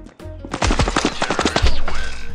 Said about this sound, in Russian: А я в кого-то стреляла.